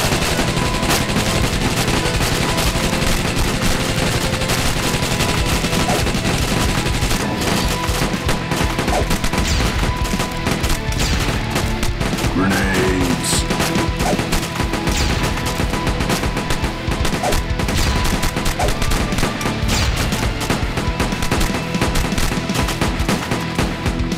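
In a zombie video game, a minigun fires continuously at zombies, producing a loud, dense, unbroken stream of rapid gunfire that lasts the whole stretch with no voices over it.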